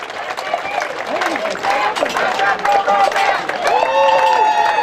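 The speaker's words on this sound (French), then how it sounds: "Vous pouvez applaudir quand même plus fort que ça." An outdoor crowd at the St Eloi parade in Château-Gombert claps and cheers, a busy mix of applause and voices with people talking and calling out over it.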